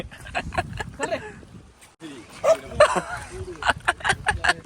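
Dogs bark and yip near a waterfall location at Daryaghat, several short barks in bursts across the clip, with people talking over and between them.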